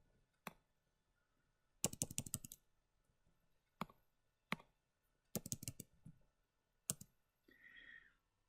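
Computer keyboard keys are typed in short clusters of crisp, close clicks, alternating with single isolated taps and quiet gaps.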